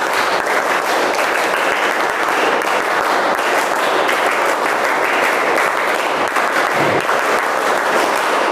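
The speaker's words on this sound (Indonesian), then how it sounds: "3 kali tepuk pramuka." A class of people performs the rhythmic Indonesian scout clap, tepuk pramuka, three times over, as a dense, loud, steady clatter of many hands that fills the room and continues without a break.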